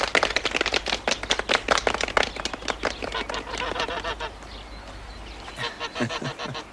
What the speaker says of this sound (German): die einzige Gans der Welt, die Treppen steigen kann